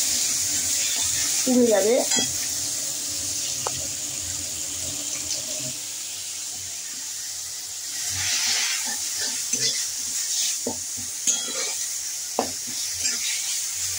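Water poured into cumin frying in a hot pan, giving a loud burst of sizzling and bubbling with stirring clatter, while someone talks over it and the sizzle keeps hissing steadily underneath.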